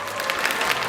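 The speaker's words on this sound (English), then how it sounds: "Everybody give him a round of applause." A school assembly crowd applauds for the principal: dense, steady clapping from many hands filling the room, brief and fairly loud.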